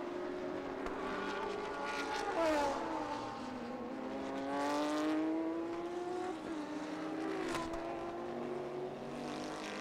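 GT race cars, a Bentley and a Ferrari among them, scream past on a circuit, with several engine notes rising and falling as they shift through gears and sweep by at moderate distance.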